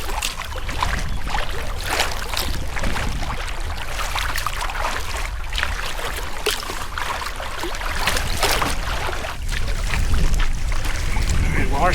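Canoe paddled on the South Thames river in spring, with repeated splashing strokes and rushing water, close and fairly loud throughout, and no talk over it.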